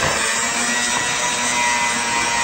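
Electric mixer whirring through cupcake batter for a root beer float recipe, a steady close buzzing drone with no talk.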